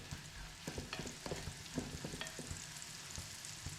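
Shallots, garlic and ginger fry on a dosa stone with a soft, steady sizzle, while quiet stirring scrapes and taps keep going throughout.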